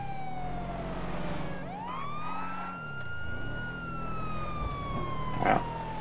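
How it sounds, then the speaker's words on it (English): A wailing emergency vehicle siren in GTA V rises and holds over a steady engine rumble, continuous and fairly loud, with a brief clunk near the end. "he probably can hear our sirens by now"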